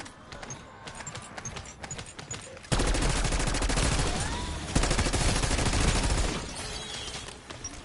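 Sustained bursts of automatic gunfire from Black Ops 6 Zombies, loud and dense, with rapid rattling volleys that intensify midway and continue in heavy, overlapping streams before tapering slightly.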